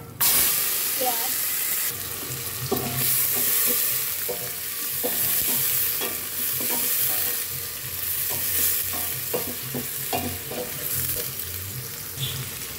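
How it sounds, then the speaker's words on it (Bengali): Cinnamon, cardamom and other whole spices fry in hot mustard oil with a steady, loud sizzle, broken by repeated stirring and scraping clatters throughout. "আর এখন আমি দিয়ে দিচ্ছি হচ্ছে দারচিনি, এলাচ, মশলাগুলো আর কি।"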